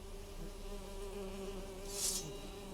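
Swarm of bees buzzing in The Witcher 3 video game, a steady droning hum throughout with a brief louder swell near the end, no voices.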